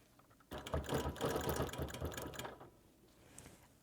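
A sewing machine stitching quilt applique with monofilament thread runs in a fast, steady burst for about two seconds, close and clear, then stops, leaving quiet room tone.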